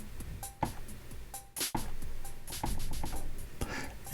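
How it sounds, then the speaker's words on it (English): A SpecDrum snare is played loosely and unevenly over a running sequencer loop: sharp, bright drum hits land at irregular moments above a busy rhythmic pattern, with no voices. "I'm basically really badly playing the snare drum like over the top of the sequencer loop"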